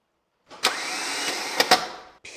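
A Mercedes W201 starter motor whirs and strains for about two seconds as it cranks the engine without catching, with sharp clicks partway through and a brief final burst.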